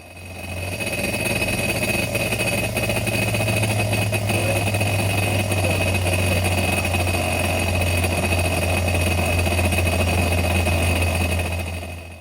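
A Sea-Doo Switch engine runs steadily at a low, even idle during winterization with antifreeze, a constant droning hum that continues without a break from start to finish.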